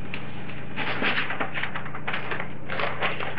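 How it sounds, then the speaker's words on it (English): Newspaper is crumpled by hand as packing material for shipping snakes, a close, steady crackling and rustling in several bursts with no talking. "And then I'll just crumple up some newspaper."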